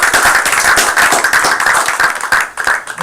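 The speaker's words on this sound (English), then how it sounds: "give all of the elders in our lives a round of applause" A congregation applauds their elders during a worship service, a dense run of clapping with sharp individual claps standing out, loud and steady for about three seconds.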